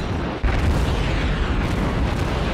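Guns of the cruiser St. Louis firing salvos in World of Warships, a dense, continuous booming roar of heavy naval gunfire, loud and close, with no voices.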